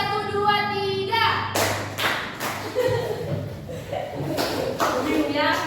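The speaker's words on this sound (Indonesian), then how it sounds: "tepuk 1, 2, 3." Fifth-grade pupils clap a counted one-two-three pattern in a classroom, the group claps coming as a few loose, uneven bursts between stretches of the teacher talking.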